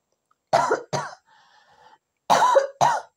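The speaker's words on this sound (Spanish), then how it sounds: "Perdonadme por la tos" Four sharp, close coughs from one person with a throat infection, two quick ones, a short pause with faint sound, then two more.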